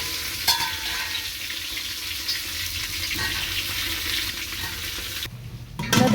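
Radish pieces frying in oil for a Kashmiri fish dish, a steady loud bubbling sizzle that drops out briefly near the end before a louder burst, no voices.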